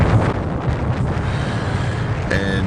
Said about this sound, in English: it is windy outside. It was windy all night.